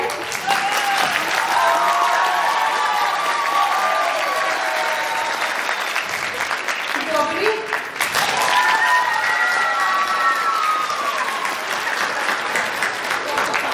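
A long, steady wash of crowd applause at a Ruse tourism vocational high school anniversary celebration, loud and continuous throughout, with brief voices surfacing partway through.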